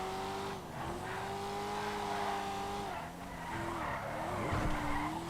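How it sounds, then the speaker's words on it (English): Tires squeal and skid on a Porsche 911R in GTA 5, with long sliding tones over a droning engine that dips and revs as the car slides and recovers. "once it starts skidding, you can quite easily correct it unless you give it a bit too much gas"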